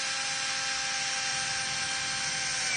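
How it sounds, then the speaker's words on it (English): A power drill whirs steadily as it bores down into the center of a held cap, a continuous close, high-pitched motor whine with no pauses. "I'm gonna firmly hold the drill down in the center of the cap"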